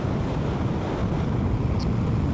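Strong storm wind buffets a motorcyclist riding a loaned Honda NC750X outdoors in the Netherlands, a steady loud rumbling roar of gusts battering the microphone throughout, with no speech.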